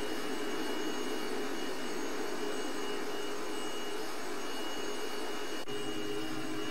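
A T-37 jet aircraft's engine screams in a loud, continuous high-pitched roar that holds steady throughout, with only a brief dip near the end.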